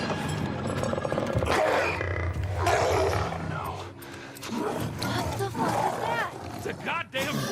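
A bloater monster from The Last of Us TV series lets out loud, guttural growls and roars that fill the scene, mixed with voices and chaotic action noise.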